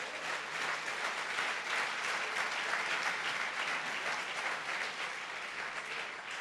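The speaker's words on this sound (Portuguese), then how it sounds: "Dê uma salva de palmas ao Senhor." A church congregation applauds together in a steady, dense wash of clapping that holds evenly for several seconds, heard from within the room at moderate volume with no talking.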